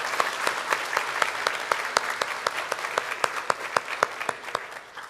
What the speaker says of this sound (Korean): 또 우리 박수로 환영하도록 하겠습니다